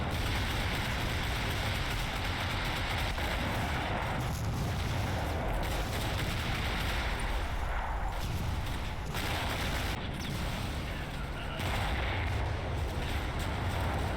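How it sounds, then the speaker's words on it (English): Dense, continuous battle noise from a World War II firefight in the strategy game Combat Mission Fortress Italy, with steady gunfire and rumbling bursts filling the whole stretch at an even, loud level. "They spot Jerry and a firefight starts"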